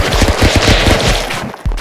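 Pistol gunshots in the Stick Fight video game, a dense run of rapid cartoonish pops and bursts, loud and close, ending with a final sharp shot.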